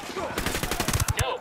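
Rapid bursts of gunfire in Ghost Recon Wildlands, a quick volley of loud, close shots firing in a fast rhythmic string, with a voice briefly audible alongside.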